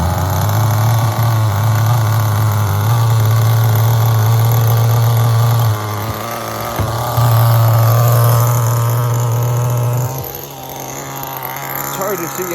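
An HPI RS4 nitro RC car engine, sludged up from running 18% fuel, hums steadily at idle with a low, constant drone, briefly dipping near the middle and settling lower toward the end, while a person talks over it.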